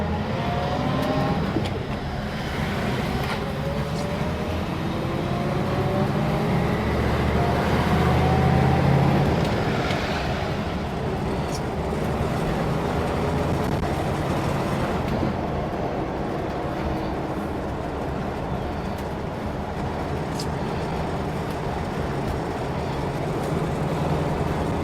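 An International Scout engine runs steadily on a test drive after carburetor tuning, a continuous low rumble from inside the cab with a brief rise in revs partway through.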